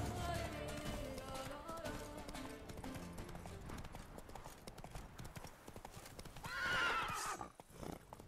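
Hooves pound in a fast galloping rhythm in The Witcher 3: Blood and Wine, close and continuous, and near the end the horse lets out a loud whinny before the hoofbeats fade.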